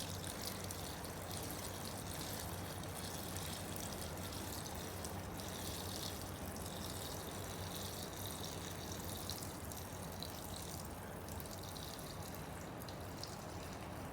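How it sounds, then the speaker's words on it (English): Gasoline poured from a gas can into the tank of a Westinghouse WGen3600v generator, a continuous loud, steady rushing trickle that runs without a break throughout. "So this is the first time I've ever poured fuel into this generator."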